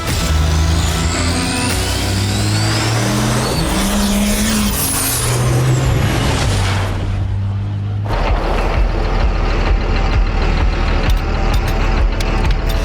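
A Cummins diesel-powered Mustang strains to tow a cement truck, its engine note rising and falling in loud revving bursts before giving way to heavy, rumbling mechanical noise.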